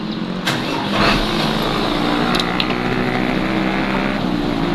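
Car engine running steadily after being started, a continuous near rumble with a brief louder surge near the start and no talking.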